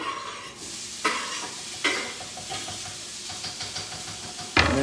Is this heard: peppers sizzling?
yes